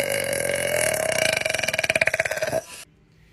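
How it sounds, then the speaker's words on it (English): A woman lets out a long, loud, close belch that rises into a rapid rattling pulse before cutting off abruptly, followed by near silence. "Burps are nasty."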